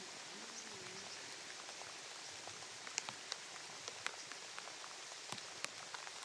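Steady rain falls quietly and evenly, with scattered sharper drops ticking close by on a surface throughout.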